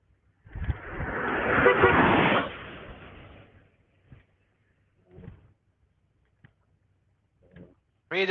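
Car horns honk in support of a roadside walk near a park and ride in Austin, Nevada: one long, loud blare for about three seconds, then several short, fainter toots spaced apart, and a final sharp honk at the end.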